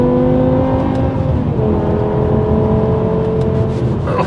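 A BMW M5 with a 500 hp V10 and a faulty steering-angle sensor sits in a loud, steady engine drone. Its engine note climbs slowly, with the tires losing traction, and the whine rises sharply near the end.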